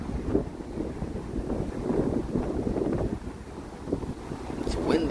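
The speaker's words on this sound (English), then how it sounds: "It's windy out here." Wind buffeting a microphone with a constant low rumble and gusty swells, with faint murmuring voices underneath.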